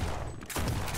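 Enemy gunfire in the video game Lovecraft's Untold Stories, a short burst of rapid shots that breaks out loud and close after a brief lull.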